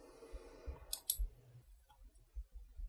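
A computer mouse clicks on the supply button while adding liquidity on Uniswap: two quick, sharp, close clicks about a quarter second apart, faint and isolated against a quiet background.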